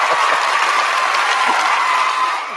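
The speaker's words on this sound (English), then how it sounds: "We got the large applause just for you," A large canned applause sound effect plays during a talk show, a bright, even wash of crowd clapping and light cheering that holds steady and fades slightly at the end.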